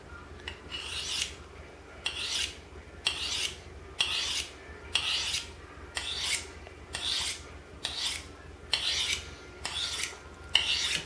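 A knife blade drawn repeatedly along a sharpening steel, about a dozen even raspy strokes in steady rhythm, close and clear with no talking.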